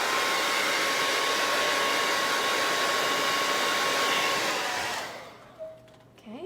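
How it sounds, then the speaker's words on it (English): A blow dryer on its heat setting runs steadily and loudly up close, drying paint on faux wood planks, then switches off around the five-second mark and leaves a quiet room. "I'm gonna dry him just so that I can show you like a real fix."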